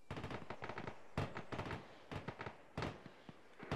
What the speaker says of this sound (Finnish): Alpha 2 opening fire towards west side.